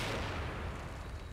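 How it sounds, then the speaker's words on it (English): Grenade blast in the horror video game The Evil Within, a short, loud, rumbling explosion that decays over about a second. "Kill them all with that grenade."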